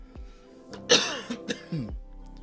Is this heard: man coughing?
yes